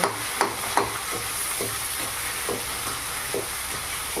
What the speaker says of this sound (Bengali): একটু নেড়ে চেড়ে এটা কষিয়ে নেব